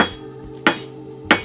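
A hammer strikes hot steel while a cut-throat razor is forged, giving three sharp, ringing metallic blows at an even pace, close and loud over a low steady hum.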